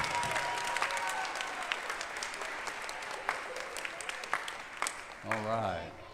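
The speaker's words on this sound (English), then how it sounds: "can we give Malik a little happy birthday applause?" Applause for a child's birthday at a fifth grade school spring chorus concert, a moderately distant crowd clapping steadily for several seconds before a voice speaks over the fading end.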